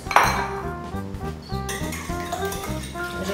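Eggs with dissolved sugar and salt are beaten quickly in a bowl for brioche dough. The close, rhythmic clinks of a utensil against the bowl repeat about twice a second, a little brighter and louder at the start, and no one speaks.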